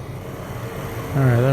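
A helicopter in the naval video game Sea Power rises into hearing near the end, a droning rotor-and-engine hum over a low rumble of background game noise.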